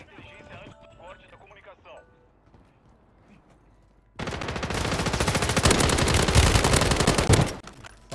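Sustained automatic gunfire in Warzone 2.0 erupts midway as a loud, dense rapid-fire burst lasting about three seconds, following quieter game sounds and a voice speaking earlier in the clip.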